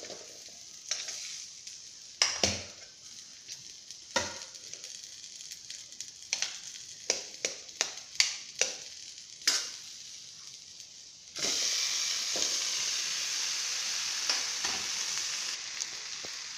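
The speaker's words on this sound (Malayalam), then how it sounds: "നന്നായിട്ട് ഇളക്കി യോജിപ്പിക്കാം." Boiled raw plantain pieces fry in a pan while being stirred, a steady high sizzle with scattered sharp scrapes and clicks of the spoon, growing louder and denser in the last few seconds.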